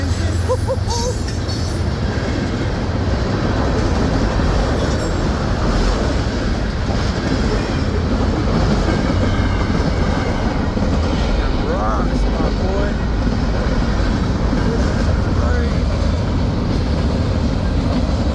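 A CSX freight train's engine and cars rush by close at speed, a loud continuous rumble with clattering wheels and faint squeals, and voices talking over it.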